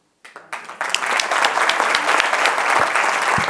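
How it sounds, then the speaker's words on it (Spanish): An audience at a book presentation applauds author Julio Ozán Lavoisier, beginning with a few scattered claps, then swelling quickly into full, steady clapping that holds strong to the end. "Un fuerte aplauso para Julio Ozan Lavoisier"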